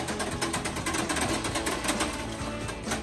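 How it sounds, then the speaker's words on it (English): A whisk spins a frosé mix in a Taylor 430 machine, giving a continuous rapid rattling whir at steady, fairly close loudness throughout. "spin with our whisk."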